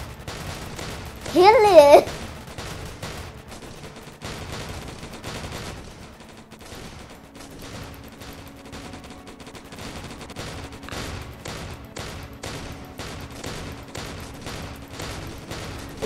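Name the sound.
gunfire from the player's gun in Roblox zombie video game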